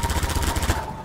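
Rapid automatic gunfire in the game Half-Life 2, a dense burst of close, loud shots in quick succession that fades near the end.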